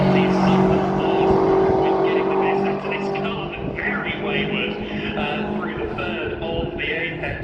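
Classic race cars lap Silverstone circuit at an Equipe classic meeting, engines droning steadily and loudly throughout with passing swells, while a commentator talks over the sound.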